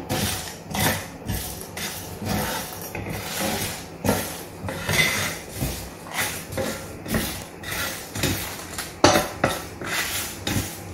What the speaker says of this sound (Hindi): बराबर चलाते हुए आप इनको रोस्ट करें ताकि सारे मसाले एक जैसे हमारे रोस्ट हो जाएं।